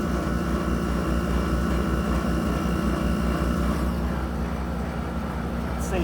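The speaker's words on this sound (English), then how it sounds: "Running the fan. And that compressor is so quiet." A 2002 Whirlpool dehumidifier runs its fan and a quiet compressor, producing a constant broadband whoosh with a low steady hum that stays even throughout.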